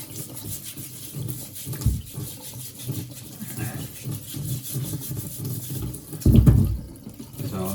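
Kitchen tap water runs while potatoes are scrubbed under it, a steady splashing rush with rubbing and knocking noises, louder bursts near two and six seconds, close by.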